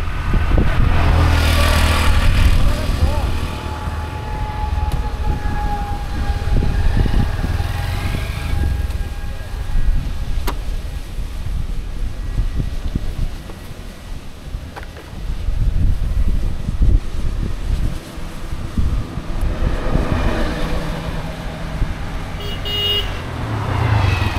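A huge geared turbine at the Cox's Bazar power plant spins at a minimum of 1000 rpm. It gives a loud, steady, close mechanical roar with a deep low rumble that swells slightly throughout.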